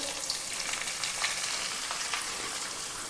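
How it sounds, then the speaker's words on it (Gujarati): Amaranth flour roasting in hot ghee gives a steady, soft sizzle with faint scraping stirs throughout, close and even, no voices. "હવે ઘી ગરમ થઈ ગયું છે તો આપણે રાજગરાનો લોટ છે તે ઘીમાં એડ કરી દેશું"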